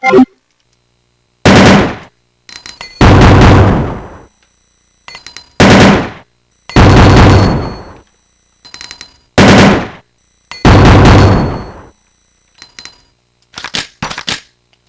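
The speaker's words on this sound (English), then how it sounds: "VP70 with a stock holster. Capable of firing 3-round auto bursts." Heckler & Koch VP70 handgun with stock holster firing three-round bursts in Resident Evil 2, a series of loud, sharp, close bursts separated by short silences, with a faint mechanical click between volleys.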